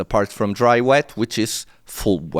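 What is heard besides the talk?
None of the usual background noises is heard.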